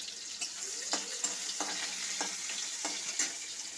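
Chopped onion frying with a dried chilli in a pan, an even sizzling hiss broken by regular clicks and scrapes of a stirring spoon, close and moderately quiet.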